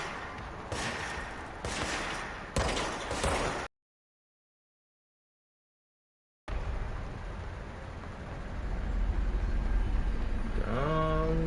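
Enemy gunfire in the video game Control comes as bursts of rapid shots, then a dead-silent gap of a few seconds, followed by a denser, rumbling stretch of battle noise that swells toward the end.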